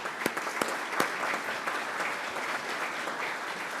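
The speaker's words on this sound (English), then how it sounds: "Let's give them a round of applause" Audience applause for guests at a gathering, a few distinct sharp claps at the start melting into soft, even clapping from a modest crowd, fairly distant.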